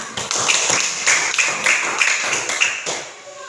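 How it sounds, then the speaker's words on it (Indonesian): A short burst of clapping from a group, steady and close, lasting a few seconds before tapering off. "Oke, tepuk tangan."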